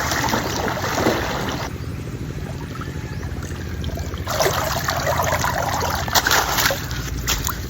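River water rushes and trickles steadily nearby, a continuous flowing wash with occasional splashes and surges, no voices.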